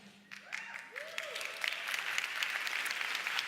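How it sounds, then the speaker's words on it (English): Applause starts thin and swells into steady clapping from a conference talk audience, continuing to the end. "Yeah, you clap now,"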